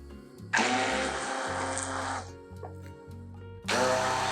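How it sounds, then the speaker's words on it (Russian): A kitchen blender whirs loudly in two bursts while pureeing cottage cheese into a smooth cream, the first lasting nearly two seconds, with a quieter motor hum between them. "Берем блендер и все измельчаем до однородной массы."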